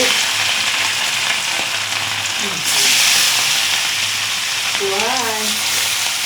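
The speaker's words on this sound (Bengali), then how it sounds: "এখানে হলো মাছ ভেজে নিচ্ছি" Fish frying in a hot wok, a loud, continuous oily sizzle and crackle up close, with brief faint voice-like sounds in the background.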